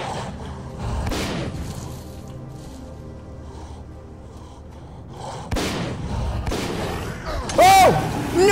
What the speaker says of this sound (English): Take out the shotgun, you idiot!